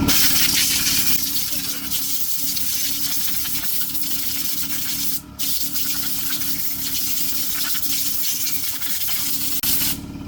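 A hose's water spray churns up sand at the bottom of a parts washer, making a loud, steady hissing rush that runs nearly unbroken, with two brief dropouts.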